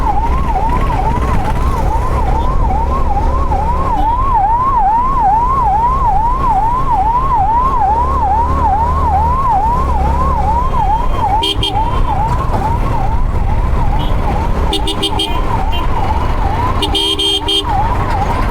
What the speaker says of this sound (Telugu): అంబులెన్స్ ఉంది, ఎమర్జెన్సీ ఏమో.